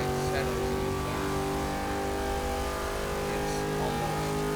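A GMC van's engine racing in the video game Forza 6, loud and sustained, holding a steady high drone with slight pitch shifts throughout.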